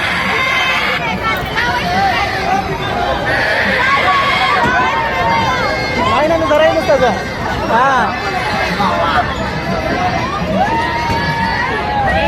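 A dense crowd at the Siddhanath fair in Mhaswad churns around the break dance ride, with continuous babble, shouts and scattered cheering close by.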